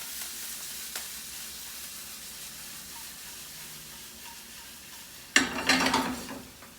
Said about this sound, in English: half of your onions, thyme, and you're just going to saute that up